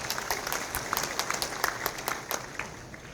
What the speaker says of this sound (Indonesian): Tepuk tangan untuk Bapak yang hadir di sini.